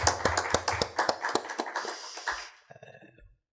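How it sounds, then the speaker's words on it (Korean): Sparse, fairly close hand claps from a small church congregation during a Sunday evening worship service, thanking the worship team, with distinct individual claps tapering off and then fading to quiet. "귀한 찬양 인도한 우리 찬양단 위하여서 격려의 박수하도록 하겠습니다"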